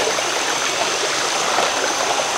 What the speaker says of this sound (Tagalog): Tawid kami ng ilog Batis.